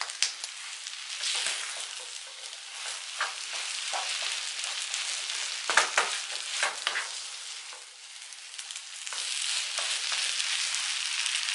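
Food sizzling in a frying pan with cheese and pepper, a close, steady crackle and hiss with occasional louder spits and stirring scrapes, no talk over it.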